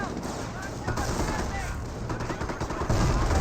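Gunfire crackles through a battle in the real-time strategy game Company of Heroes, a steady dense rattle of small-arms and machine-gun bursts continuing for the whole stretch with speech mixed in.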